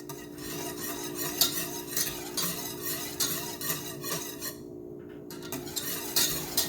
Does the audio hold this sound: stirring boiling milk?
yes